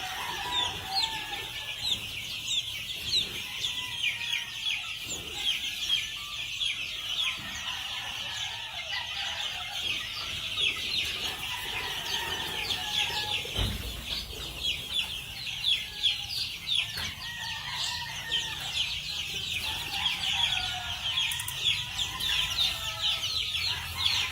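Gamefowl at a farm cluck steadily in the morning, with several birds overlapping in a busy, continuous chorus at moderate distance and a short thump partway through.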